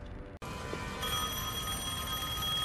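A telephone rings in the action game Devil May Cry 5. Its bright, steady electronic tone starts abruptly after a brief cut and sustains loud and close, with no talk over it.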